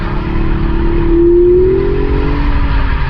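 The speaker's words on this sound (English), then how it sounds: "See, look, we can just start the drift like this. Look at the throttle. Barely any throttle." A Mazda RX8 rotary car drifting on light throttle, its engine a loud, steady drone that swells briefly in pitch mid-slide and then eases, with tire noise underneath and no speech.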